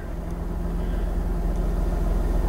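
A car engine idling after being started, a steady low rumble with a faint rhythmic pulse, close and constant throughout.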